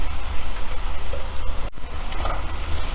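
Kashmiri chili powder and coriander powder frying in oil for dhaba-style paneer masala, a steady close crackling sizzle with a brief stir or scrape partway through.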